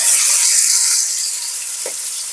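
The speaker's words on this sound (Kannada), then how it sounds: "ಫ್ರೈ ಆಗ್ತಾ ಇದೆ." Five pieces of fish fry in hot oil with a steady, loud, hissing sizzle that fades only slightly over its length, close up and alone with no voices.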